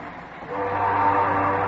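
Steamship Roosevelt's whistle, aboard the drifting liner in a storm, gives a loud, steady, tonal blast that swells and holds for nearly two seconds with no voices.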